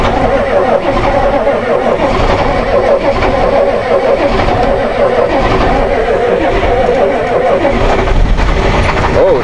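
A tired old Ford engine cranks and fires up on a cold day, a loud, continuous rough running that rises near the end, with people talking over it.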